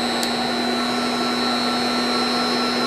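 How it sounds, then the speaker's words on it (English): An inverter-driven load motor spins up from no load, giving a steady loud electrical whine and hum with constant tonal lines, continuous and close throughout, with no voices. "we'll turn on the load motor and bring our preset speed up"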